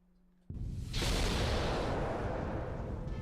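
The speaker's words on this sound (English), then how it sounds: "Sound like a gunshot." A sudden sharp gunshot-like blast in the video game Fate/Grand Order, followed by a long loud roaring rush that sustains to the end.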